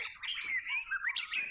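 A white-rumped shama (murai batu) gives a run of loud, close squawking calls and sharp whistled notes, varied and continuous across the whole stretch, with no talk over it.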